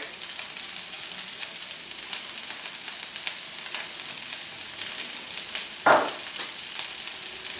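Garlic sizzles steadily in a pan on a Cobb BBQ, where onions are already frying for a roast duck dish, with a brief louder clatter partway through.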